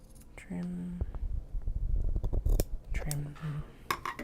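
Scissors snip and crunch through Japanese fabric in a quick run of close cuts, with light clinks and a few soft hums between.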